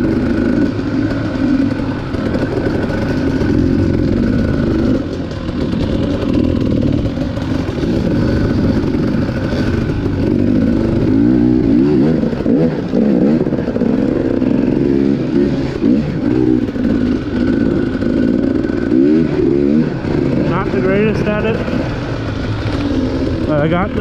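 A KTM 300 dirt bike ridden along a single track trail at Horse Shoe Valley: a loud, close two-stroke engine drone that rises and falls with throttle, continuous throughout, with a voice talking over it at times.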